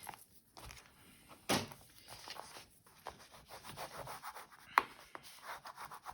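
Paper in a sewing journal is burnished down by rubbing, making soft, close, intermittent scratchy strokes with a couple of sharper taps, quiet and without talking.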